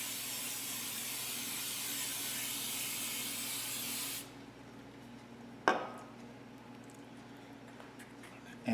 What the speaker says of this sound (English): we're going to spray the muffin tins so that they will release well.